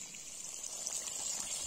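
Spring water pours steadily into a 5-litre bottle at a village spring after a summer drought, a continuous bright gushing trickle at close range, quiet and unbroken with no voices.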